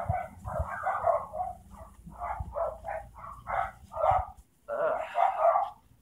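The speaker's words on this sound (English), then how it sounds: "Shut up, dogs!" Dogs bark in repeated bursts, some close and loud, mixed with a person talking and shouting over them.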